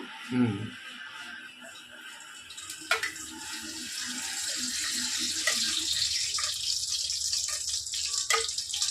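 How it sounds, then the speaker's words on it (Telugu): Ghee poured into a pot of biryani, a soft continuous liquid pour with a few small splashes and clinks, fairly close and steady throughout. "ఇదిగోండి నెయ్యి వేస్తున్నాను"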